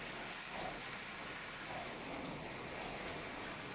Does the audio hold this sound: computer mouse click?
no